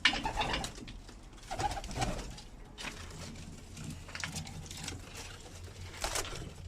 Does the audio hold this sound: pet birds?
yes